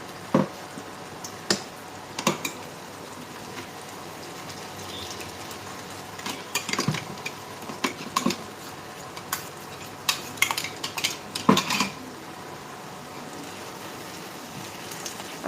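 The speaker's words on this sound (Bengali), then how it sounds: "আগে এটা ভালো করে নাড়িয়ে নিলাম।" Spice paste and hot water being stirred in a pan on a low-heat induction hob for Bengali jhinge bahar: sparse, irregular scraping and clinking ticks of a utensil against the pan, moderately close, with quiet gaps between strokes.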